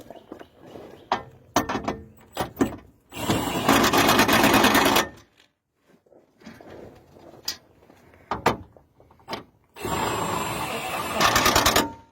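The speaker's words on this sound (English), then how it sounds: "Now I'm set this impact wrench on just one where it won't hardly impact at all." An impact wrench set to its lowest setting snugs bolts during an oil change on a 2009 Chevrolet Silverado 2500, several short bursts of rapid close whirring and rattling separated by pauses, with a few clicks and knocks of handling between them.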